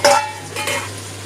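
A spoon stirs vegetable khichuri of Gobindobhog rice in a pot just after hot water is added, making a close scraping swish with a wet sizzle, in two short strokes.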